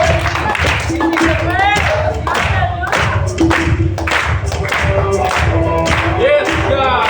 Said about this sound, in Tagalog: Pwede mo bang makita yung mga kamay na pumapalakpak ng ganito?